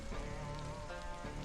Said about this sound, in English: they're going to get kind of wet because it's raining